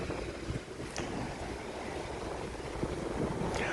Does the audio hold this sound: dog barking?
no